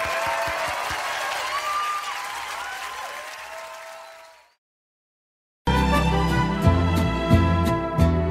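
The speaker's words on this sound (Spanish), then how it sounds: "El aplauso para mis vástagos" A concert audience at a live ranchera show applauds loudly and steadily, the clapping fading out over about four seconds into a brief silence before music starts up.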